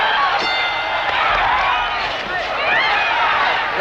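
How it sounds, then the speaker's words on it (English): A boxing arena crowd roars and cheers as it rises to its feet late in a round, a dense, loud and sustained wall of voices with shouts and whoops. "The crowd coming to its feet."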